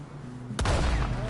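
A sudden gunshot bursts out in Red Dead Redemption II, a sharp crack followed by a booming, rumbling tail that rings on for most of a second after a quieter lead-in.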